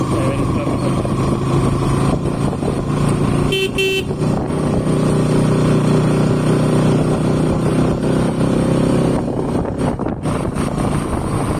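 A motorcycle rides along a main road with its engine droning loud and close, holding a steady tone with slight swells, and a short horn toot cuts in partway through.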